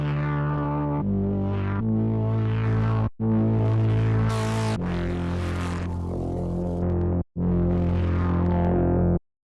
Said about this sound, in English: This is that very similar distortion we've seen in a few other places now.